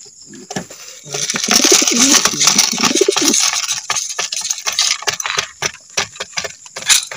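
Fancy pigeons coo at feeding time in a repeated, soft, throaty rolling pattern up close, with light rustling and clinking mixed in around them.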